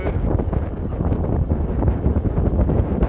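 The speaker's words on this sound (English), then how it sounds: "the wind almost never stops, so it's just pounding you the whole time" Strong, relentless wind in a Ladakh Himalayan valley buffets the microphone with a dense, continuous roar and gusty rumble, steady and loud throughout with no voices.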